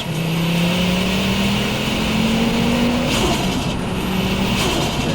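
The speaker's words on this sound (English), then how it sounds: "You're just tickling a turbo there, brother. This is low boost." Ford Focus RS MK2 five-cylinder turbo engine at low boost, tuned to about 520 hp, droning steadily with a rising tone as it pulls through traffic, then a brief lift and settle, heard from inside the car.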